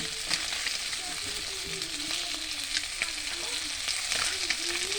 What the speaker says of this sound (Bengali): এখানে আমি অনেকগুলো মাছ নিয়েছি, ভাজা করছি। আর এখানে ভাজা হচ্ছে।